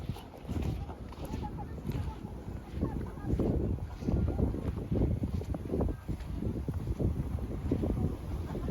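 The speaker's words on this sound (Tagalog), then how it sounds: "Ang sarap ng hangin." Gusty wind buffeting the microphone outdoors on the beach at San Felipe, Zambales, rumbling and uneven throughout, with faint voices and surf-like noise underneath.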